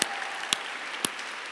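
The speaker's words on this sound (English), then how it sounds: "Another round of applause." Light, sparse applause at an awards event for refugee advocacy, a soft clapping texture punctuated by three distinct louder claps spaced about half a second apart.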